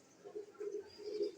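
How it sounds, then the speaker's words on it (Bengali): Pigeons feeding on scattered grain give short, soft, throaty coos in quick repeated pulses, close but quiet, with no other sound around them. "কতগুলো কবুতর"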